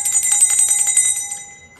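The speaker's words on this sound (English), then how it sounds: "freedom bell for that" A small bell rung in celebration gives a bright, ringing metallic tone with several quick repeated strikes, then a short sustained ring that fades out.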